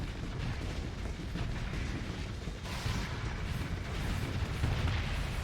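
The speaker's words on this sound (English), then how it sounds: "So you were a little too close to the explosion." Explosion in the Starsector space game, a rough rumbling burst of booming noise that swells and rolls on for several seconds at moderate loudness, with no voices.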